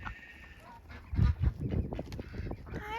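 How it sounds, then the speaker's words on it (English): Honking waterfowl calls from ducks at a snowy farm pond, several overlapping squawks and quacks in a busy burst near the listener, with outdoor background noise. "Hi, baby ducks."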